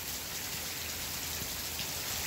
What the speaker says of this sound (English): It's a rainy day here in Maine, kind of chilly.